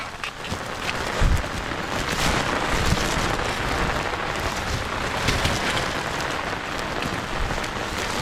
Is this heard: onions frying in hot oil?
no